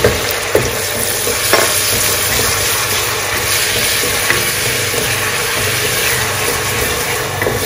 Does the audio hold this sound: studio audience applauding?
no